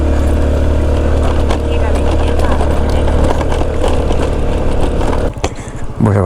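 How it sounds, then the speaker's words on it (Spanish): A 150cc motorcycle engine drones loudly and labors continuously, straining uphill under load before briefly dropping off and surging again near the end. "mira la moto como le cuesta subir esto."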